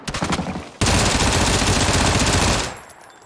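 Automatic gun in PUBG dumping a full magazine, a few quick shots followed by a dense, loud, continuous burst of rapid fire for nearly two seconds that stops abruptly.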